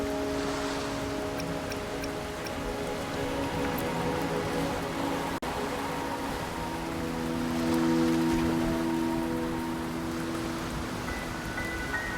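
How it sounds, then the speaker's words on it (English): Steady rain falls in the video game Wuthering Waves, a continuous soft patter spread evenly throughout, mixed with sustained tonal music in the background. "Don't worry, the rain won't last much longer."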